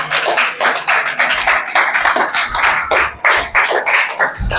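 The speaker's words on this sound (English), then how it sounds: "Clapping करिए इनके लिए" A class of eighth-grade students claps for a classmate who has just recited an English poem, a dense burst of many hands clapping together in a classroom for the full stretch.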